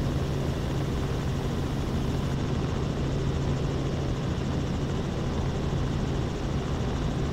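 Steady loud helicopter rotor and engine roar heard from inside the cabin during a night flight over New Orleans, constant and close with no break.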